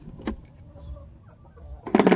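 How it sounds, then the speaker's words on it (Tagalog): Chickens cluck in a yard in Dumangas, Iloilo, with soft scattered clucks and a louder burst of clucking at the end. "Ating mga manok, Mario, nagkain na sila ng mga bayabas, no?"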